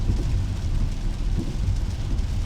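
Heavy pouring rain falls outside as a loud, continuous, dense rush with a deep rumbling low end, steady throughout and with no talking.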